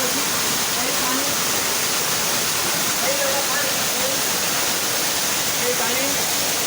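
The Asurajhula waterfall roars as a continuous, loud, close rush of water that fills the whole stretch, with faint voices barely audible beneath it.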